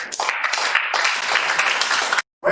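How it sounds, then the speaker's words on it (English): An audience breaks into a round of applause at a talk, sustained dense clapping at full loudness for about two seconds before cutting off abruptly into silence. "Please, can you give me a round of applause?"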